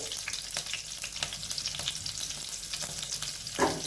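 Whole green chillies, slit down the middle, frying in hot oil with asafoetida, giving a dense continuous crackling sizzle, close and fairly quiet, with a single louder spatter near the end and no talking.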